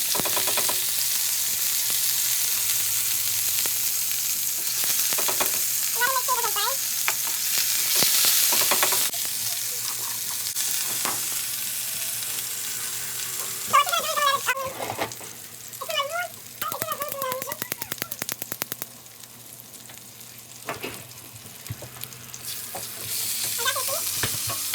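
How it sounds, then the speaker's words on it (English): Haitian épice seasoning sizzling and frying in hot oil while being stirred, a steady crackling hiss that rises and falls over many seconds, close, with someone talking at intervals over it. "So I'm just gonna put it in the oil so it's gonna fry in there."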